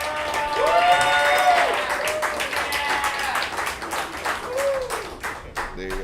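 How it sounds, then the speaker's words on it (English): Members at a Young Democrats monthly meeting applaud, a dense round of clapping that holds steady for several seconds while people talk and cheer over it. "So let's give him a round of applause."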